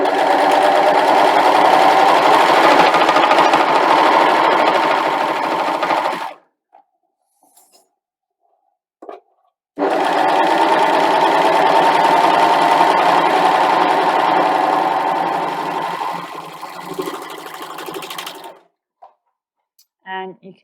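A Husqvarna Viking Amber Air S 400 serger stitches through stretchy fabric, running in two long continuous whirring bursts, close and loud, with a quiet gap between them.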